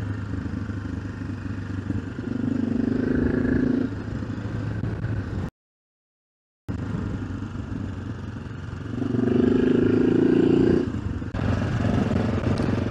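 An AJP PR7 motorcycle cruises a winding tarmac road through Spanish countryside, its engine droning steadily under wind noise and swelling in two brief surges of revs, with a short gap of silence midway.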